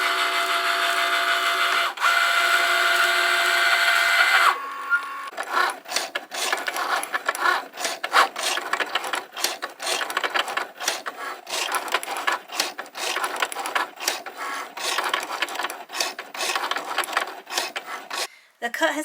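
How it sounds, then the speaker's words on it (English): A Cricut cutting machine slices a cake topper design, giving a steady whirring hum for the first few seconds, then a busy run of rapid scraping, rasping cuts with short pauses, close and continuous with no talk. "press the go button on the machine and it's going to start to cut"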